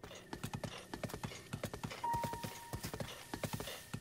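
Steady clip-clop of horse hooves trotting at a brisk, regular rhythm in The Legend of Zelda: Breath of the Wild, fairly close, with a faint thin tone sounding briefly midway.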